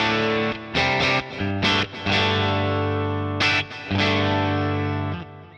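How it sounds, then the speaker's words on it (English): Electric guitar played through a Boss Katana amp with the Big Muff fuzz switched off: sustained, lightly driven chords with short breaks between strums, loud and close, no talking. "Now this is the sound of the Katana without the Big Muff switched in."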